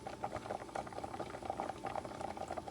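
A pot of water and rice bubbles at a rolling boil, with fast, soft popping and gurgling heard close and fairly quiet.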